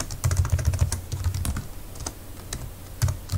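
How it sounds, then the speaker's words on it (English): Rapid keystrokes clatter on a computer keyboard as a Composer install command is entered at the command line, with a dense burst at the start, a brief pause, then more scattered taps close by. "this is what you type in the command line"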